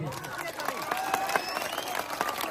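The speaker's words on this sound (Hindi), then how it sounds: "तो एक बार बिहार के भविष्य के नाम पे जोर से ताली बजाइए" Crowd of labourers at a political rally in Bihar clapping on cue, a dense outdoor patter of hands mixed with crowd noise and a faint tonal whine, moderately distant.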